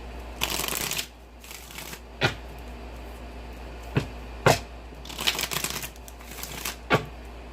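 Tarot cards are shuffled in several close, dry riffling bursts with sharp snaps and taps in between, no talk.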